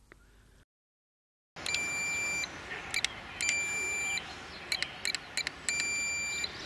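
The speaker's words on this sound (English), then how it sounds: "You can hear a long beep when you are in the right position." A Blade 350 QX quadcopter transmitter gives a sustained beep on switch-on, followed by further tones and short chirps in several bursts against low background hiss.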